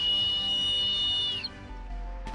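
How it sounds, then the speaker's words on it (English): A whistle on a RESTUBE rescue buoy blown in one long, loud, steady shrill tone that fades out after about a second and a half, with nothing else around it. "Then we have also whistle on the RESTUBE itself."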